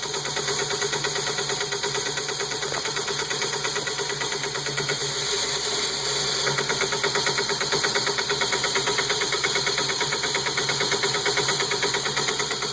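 A Lego 10-speed transmission running in tenth gear, a steady fast-whirring motor hum with a dense, even gear chatter that stays constant and moderately quiet throughout.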